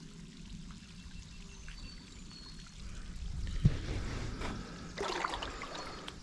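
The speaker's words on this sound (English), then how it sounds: "Beautiful waterfalls flowing." A hidden waterfall pours and trickles steadily nearby, a soft continuous rush of water that swells slightly partway through, with no one speaking.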